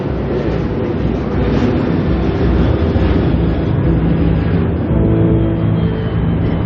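A jet airliner lands close by at Heathrow Airport, a loud, broad, continuous roar that swells and holds for several seconds without any talk.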